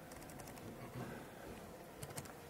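Computer keyboard typing during a presentation on LibreOffice Draw and Impress, quiet scattered key clicks with a few louder taps near the end over a steady background hiss.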